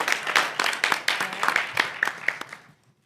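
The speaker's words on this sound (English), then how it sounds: "So give ourselves a round of applause for the great work." Applause at a city council work session in Raleigh, a short round of scattered clapping from a room of people that swells and then tapers off to quiet.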